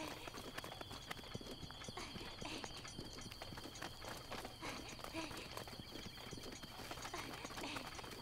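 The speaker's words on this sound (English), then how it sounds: "Are there horses out there?" Horses gallop in an open-world Zelda: Breath of the Wild adventure, a steady, close clip-clop of hooves running throughout over a constant background bed, with someone talking over the hoofbeats.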